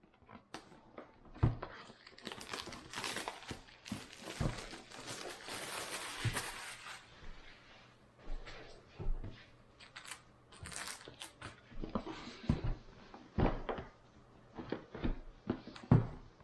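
A DJI Mini 2 drone bought from Amazon is unpacked from its box: intermittent crinkles, taps and soft clunks of packaging being handled nearby, in irregular bursts separated by short quiet gaps.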